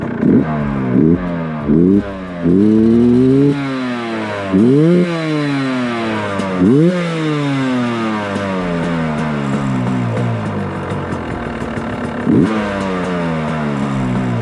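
Motorcycle engine fitted with a Lectron Billetron carburetor, close and loud, giving a series of sharp throttle blips that rise and fall quickly before settling into a rough, steady idle.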